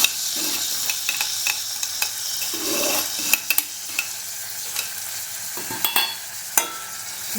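Dal sizzles in hot oil with turmeric, alongside potatoes, while a spoon scrapes and stirs the pan; a steady close frying hiss runs throughout, broken by sharp clicks of metal against the pan.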